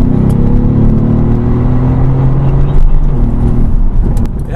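A tuned 2018 Mercedes-AMG GT R engine pulls hard on back roads, a loud steady roar rising through the gears with a brief shift dip near the end, close and continuous under the cabin.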